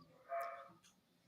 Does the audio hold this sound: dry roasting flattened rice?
no